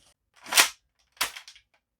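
A primed Gear Up Raider toy blaster gives two short, sharp rattling bursts close by, the first louder and longer, the second followed by a brief clatter, with silence around them.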